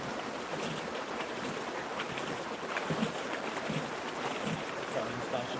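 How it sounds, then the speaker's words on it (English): Water splashing and sloshing as a gold pan is worked in a stream, a steady broadband wash close to the microphone with wind noise, continuing throughout without speech. "Sorry, I'm splashing in."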